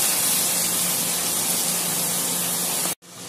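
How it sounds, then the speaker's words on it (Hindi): Garlic ginger paste fries in hot oil for a chicken leg masala, a loud, steady, close sizzling hiss that cuts off abruptly near the end and then resumes more quietly. "अब इसमें लहसुन अदरक का पेस्ट डाल देंगे और इसे एक मिनट के लिए भून लेंगे।"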